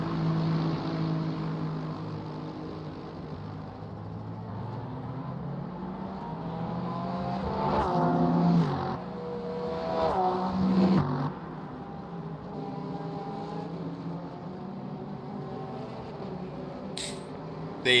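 GT3 race cars, including a Lexus chasing a Porsche, at the Algarve circuit, with a sustained engine drone that climbs and shifts pitch as the cars accelerate and pass, fairly distant and steady over eighteen seconds.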